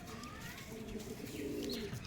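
A Magnet breed pigeon gives soft, low, repeated coos while being held in the hand, quiet and close, with faint rustling and no speech.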